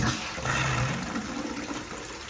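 Hot water rushing through the supply line into an LG dishwasher after its water inlet valve was replaced, a steady, close, broadband hiss and gush with no pause.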